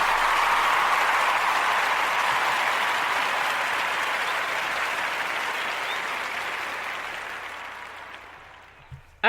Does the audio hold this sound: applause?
yes